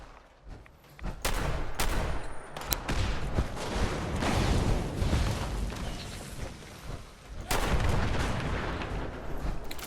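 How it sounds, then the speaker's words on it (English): Explosions in the video game Fallout 76 boom repeatedly, a dense run of heavy blasts and gunfire-like bursts that stay loud for most of the stretch, with brief lulls between volleys. "If you like explosions, you're in the right spot."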